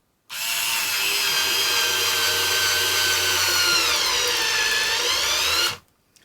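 A Hart battery-powered screwdriver drives a screw until it buries and strips out, one steady high motor whine lasting about five seconds, close and alone, with the pitch shifting slightly as the load changes, then stopping abruptly.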